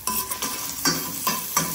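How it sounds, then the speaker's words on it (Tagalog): Garlic sizzles in a hot pan with a steady frying crackle, broken by several rhythmic scrapes of a utensil stirring it, close and clear. "Mainit ng ating kawali at kumukulo na ang ating bawang."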